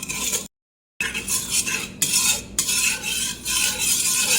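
A utensil stirs and scrapes against a bowl as breadstick dough ingredients with sugar are mixed, in quick repeated rhythmic strokes, close and loud, with a brief silent gap early on.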